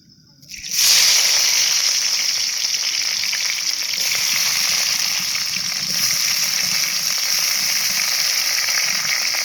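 Chopped onion dropped into hot oil seasoned with whole bay leaf and cumin for a village-style chicken curry, a sudden loud hiss that settles into a steady, bright sizzle lasting several seconds.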